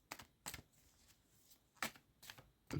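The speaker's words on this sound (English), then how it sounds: "Let's give these a shuffle and let the cards tell us how you're doing." Tarot cards being shuffled in several quick bursts, close and crisp, with short quiet gaps between the riffles.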